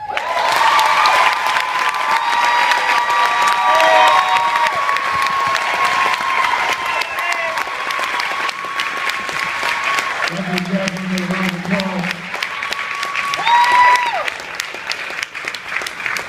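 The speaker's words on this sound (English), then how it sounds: "Y'all give one another round of applause." Steady applause from a large audience fills the whole stretch, swelling and holding with scattered cheers mixed in, and a voice speaking over it.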